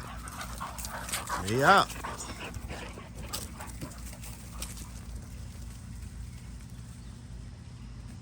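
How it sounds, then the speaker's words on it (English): Dogs pant and whimper close by, with a brief rise of whining early on, while someone talks throughout. "we got them dogs out"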